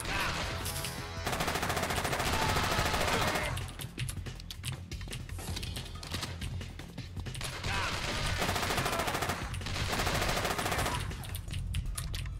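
Gunfire in the PC game Alcatraz: In the Harm's Way, with long, loud, sustained automatic bursts and rapid rattling shots that ease off only briefly.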